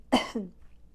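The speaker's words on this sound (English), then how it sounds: "try not to break out into a coughing spell" A single sharp cough followed by a short rasping throat clear, close and alone.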